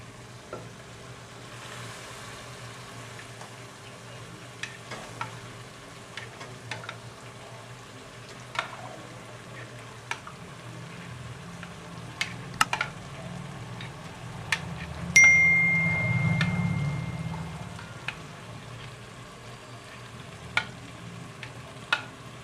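Soaked paneer cubes drop into a hot pan of sautéed spinach gravy for palak paneer, giving a brief swell of sizzling frying with scattered metal clinks and spoon taps over a quiet kitchen background.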